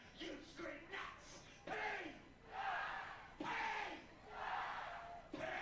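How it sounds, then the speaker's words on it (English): A minor-league baseball crowd in Missoula during a PaddleHeads game against the Glacier Range Riders roars in repeated rising bursts of cheering and yelling, swelling and fading in waves. "This crowd is loving it here in Missoula, making some noise."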